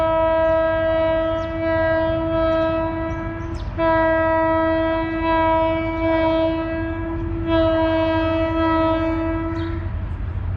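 A GMU 30 diesel locomotive hauling the Hazara Express sounds a long, loud multi-tone horn lasting nearly ten seconds, with brief breaks, over the steady rumble of the running train close by.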